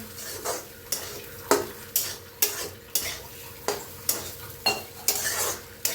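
Pithla mixed with coriander and crushed peanut powder stir-roasted in a pan: a spatula scrapes the pan in regular strokes about every half second, each with a sharp metallic onset over a steady low sizzle, close up and with no talking.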